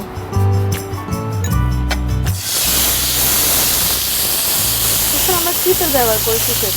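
Barbecue chicken laid onto a grill lightly oiled with olive oil, starting with clattering and a voice, then a sudden loud steady sizzling hiss that carries on under talk.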